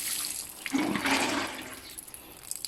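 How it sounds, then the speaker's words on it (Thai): Lime cuttings are soaked with water poured from close by, a brief rushing splash that swells and then tapers off, with no voices. "ต่อไปก็เอาน้ำมาหดครับ"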